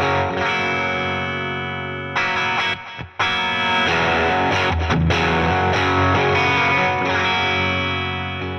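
Electric guitar played through overdrive and distortion pedals, giving sustained, saturated chords and notes with a short dip in the middle. It sounds loud and close, with no speech.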